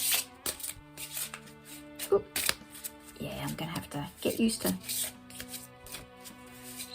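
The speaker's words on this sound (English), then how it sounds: "Let's see if I can shuffle them first." A deck of oracle cards is shuffled in quick papery riffles and taps, with bursts of card noise between stretches of close talk.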